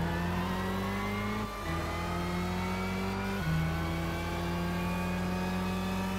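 A Honda NSX race car engine in Gran Turismo 6, steady high revving with gear shifts stepping the pitch up and down, loud and close throughout, with no talking.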